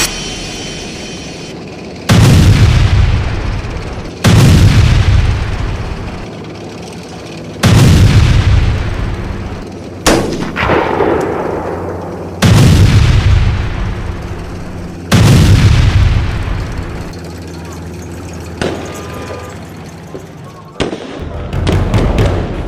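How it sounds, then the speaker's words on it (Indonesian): Airstrike bombing explosions over residential northern Gaza: a series of about six loud, heavy booms spaced a few seconds apart, each rolling off into a long rumbling decay, with fainter blasts at the end. "Militer Israel dilaporkan kembali melakukan serangan udara dan pengeboman di kawasan permukiman utara Gaza"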